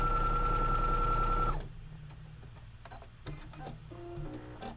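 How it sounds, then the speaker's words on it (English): A correctly threaded sewing machine runs with a strong, even mechanical whir for about a second and a half, then stops, leaving only quiet clicks and faint handling noises. "when the machine is threaded normally and we go to sew, our machine is going to sound nice and strong."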